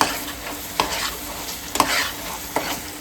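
Masala paste for matar paneer curry sizzles steadily in a hot pan while a spatula stirs and scrapes it, with a few distinct clacks standing out over the continuous frying hiss.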